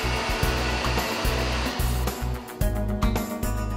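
A mixer grinder whirs through masala in short bursts, a loud, close motor buzz cutting in and out in a rapid stuttering rhythm with no talking over it.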